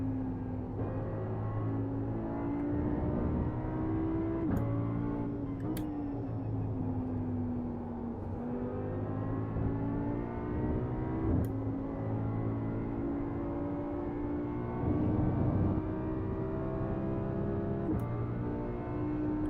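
An Audi GT3 Evo2 race car runs at Spa on a dry test day, its engine droning loud and sustained as it accelerates. The revs climb and ease through a slight lift, heard from on board with no talking.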